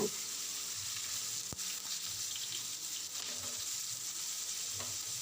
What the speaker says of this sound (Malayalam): അങ്ങനെ നമ്മൾ മീൻ തിരിച്ചു മറിച്ചൊക്കെ ഇട്ട് കൊടുത്തിട്ട് നമുക്ക് നല്ലോണം ഒന്ന് അങ്ങോട്ട് ഫ്രൈ ആക്കി എടുക്കാം